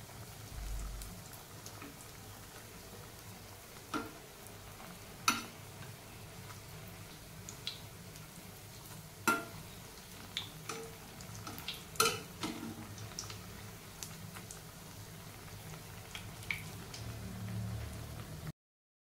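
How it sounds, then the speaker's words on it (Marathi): Bread pieces fry in hot ghee in a wok, a quiet, steady sizzle with occasional small pops and ticks, heard close and alone. "आता त्यामध्ये टाकूयात ब्रेडचे तुकडे आणि छान हे गोल्डन रंगावरती फ्राय करून घेऊया"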